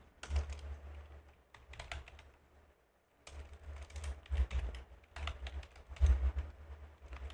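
Quick bursts of keystrokes on a computer keyboard as a Samba smbcontrol command is typed, close and fairly quiet, with a brief pause in the middle.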